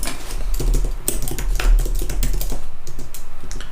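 Rapid, irregular keystrokes on a computer keyboard as code is typed, a dense run of close clicks with no talking.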